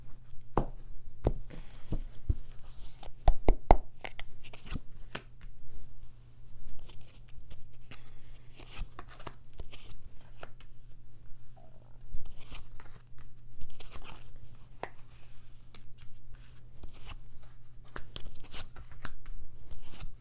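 A tarot card deck is cut and shuffled up close in a quiet room. Soft riffling, papery slaps and taps come in irregular clusters throughout, over a steady low hum, with no talking.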